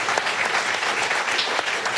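A live podcast audience breaks into brief, steady applause for marathon runner Anaïs, a dense even patter of many hands at constant level with no voices over it.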